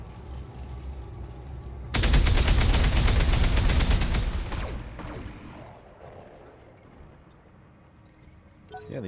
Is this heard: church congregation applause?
no